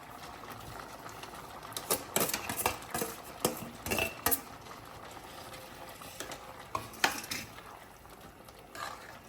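A pan of paneer curry in milk simmers while a spoon stirs it. Irregular clinking scrapes come in bursts over a steady bubbling hiss, close and moderately loud.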